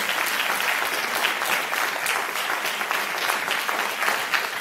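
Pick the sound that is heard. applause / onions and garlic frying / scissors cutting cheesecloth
applause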